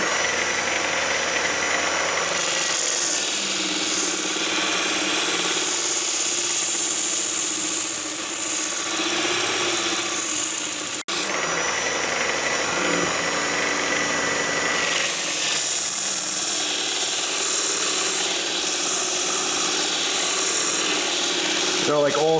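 A power tool runs loud and continuous, grinding along the edge of a Spyderco Spyderfly balisong knife, with a brief break in the middle before it carries on.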